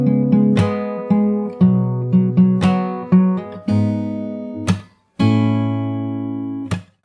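Fingerstyle acoustic guitar plays the pre-chorus of a song. Clear picked notes and chords ring out close and loud, punctuated by sharp percussive slaps on the strings.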